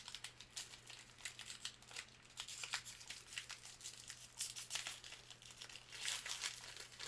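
Pack of Twin Peaks Archives trading cards being opened, with continuous close crinkling and crumpling of the foil wrapper, bursts of tearing, and a low steady hum behind it.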